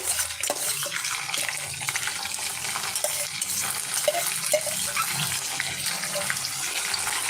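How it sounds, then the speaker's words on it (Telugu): Onion and green chilli pieces fry in a pan with a dense, continuous sizzle and hiss. Light stirring scrapes sound throughout at an even, close level. "ఇవి కూడా కొంచెం సేపు అలా వేయించుకోవాలి"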